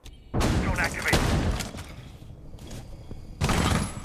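A grenade blast and bursts of gunfire in Rainbow Six Siege on the Consulate map, heavy loud explosive bursts with a quieter gap between them, close and booming.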